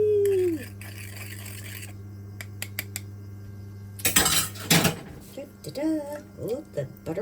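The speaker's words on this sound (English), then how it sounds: "Okay, I'm gonna stir this up first." A spoon clinks and scrapes against a bowl while biscuit ingredients are stirred, a few scattered taps followed by a loud burst of rattling scraping and quieter clinks and squeaks afterward.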